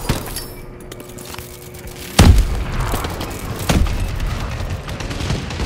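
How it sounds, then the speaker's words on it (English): Two heavy explosions from a bombing run in the video game Call of Duty: Advanced Warfare, loud booming blasts a second and a half apart, with faint gunfire and rumble around them. "Friendly bombing run incoming."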